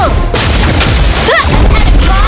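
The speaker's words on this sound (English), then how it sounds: "Your team destroyed the turret." In a mobile battle game, a turret is destroyed with a loud, booming explosion, followed by whooshing effects and dense combat noise.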